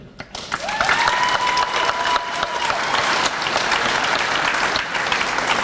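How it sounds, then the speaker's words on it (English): Loud, dense applause from a graduation commencement audience at Alliance High School at Benson, building quickly after a brief quiet start and holding steady, with a faint sustained tone early on. "I think they deserve a round of applause too."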